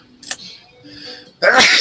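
A single loud, explosive sneeze at the end, preceded by a brief sharp inhale and a faint breathy catch, close to the listener.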